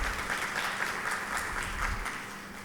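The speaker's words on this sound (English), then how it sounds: "So round of applause." A crowd at the TIE U Pitchfest 2025 chapter final gives a welcoming round of applause for a speaker. Steady, moderately distant clapping that thins slightly toward the end.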